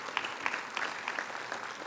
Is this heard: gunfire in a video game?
no